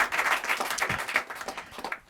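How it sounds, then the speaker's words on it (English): Dense applause from a crowd, steady clapping filling the room for a couple of seconds without a break. "Give yourselves a round of applause."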